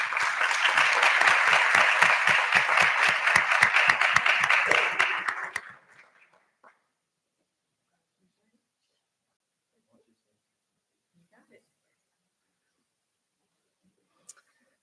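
An audience at a Board of Education meeting claps loudly and steadily for a special education staff member, then the applause tapers off about halfway through into near silence with a few faint stray sounds.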